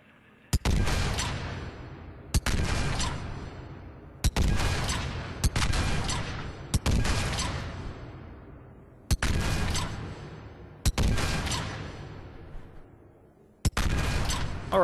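Eight single shots from a Saber rifle in Mass Effect 3, fired at long range. Each is a sharp, loud crack with a long fading tail, spaced about one to two seconds apart, with no talking.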